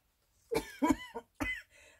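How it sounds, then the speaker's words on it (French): A short run of close, harsh coughs, three or four quick bursts in a row, with a brief pause before the last one. "Désolée, mais je tousse énormément."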